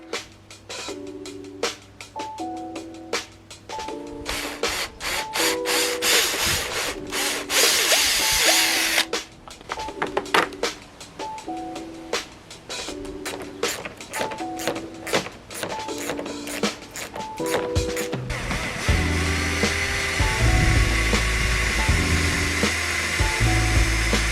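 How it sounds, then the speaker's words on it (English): A power drill whirs in repeated short bursts as holes are drilled, with pauses, clattering handling sounds between runs, and a louder rumble near the end. "So let's get the holes drilled for these."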